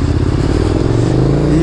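A KTM Super Duke 1290 R motorcycle engine revs up loud and close, its pitch climbing over under two seconds.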